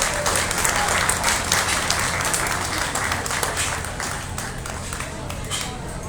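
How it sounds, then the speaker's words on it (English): A crowd at a county fair swine show applauds the champion litter, a loud, sustained round of clapping that fades slightly toward the end. "give him a nice round of applause"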